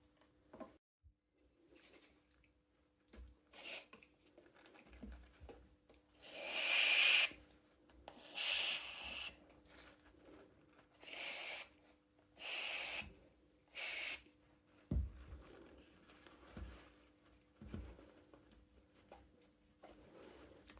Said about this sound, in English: I'm gonna try some contact cleaner on the part and see if that changes anything